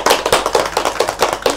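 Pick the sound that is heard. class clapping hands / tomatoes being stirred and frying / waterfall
class clapping hands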